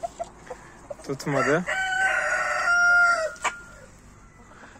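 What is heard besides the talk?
chicken clucking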